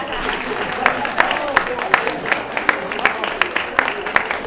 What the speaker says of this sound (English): You see they're clapping loud, right?